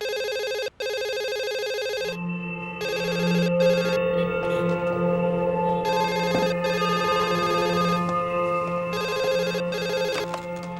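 A telephone rings in repeated electronic bursts with short gaps between them, loud and near, with a low hum running underneath from the second ring onward.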